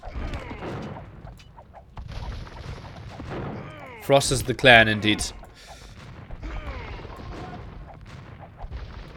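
Bombard cannons firing in a real-time strategy death match game, a brief cluster of booming shots in the middle of the clip over battle clatter, with a commentator talking throughout.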